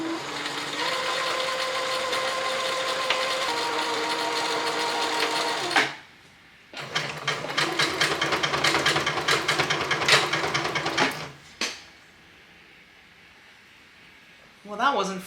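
Sewing machine stitching stretchy fabric in two long, loud runs with a short pause between, followed by a brief final burst; the steady motor whirr and rapid needle rhythm sit up close.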